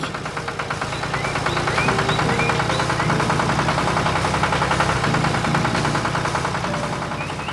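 A red tractor engine drones in a farm cartoon, a steady, loud, rhythmic chugging idle with a fast regular knock running throughout, joined by faint chirping birds, with no talk.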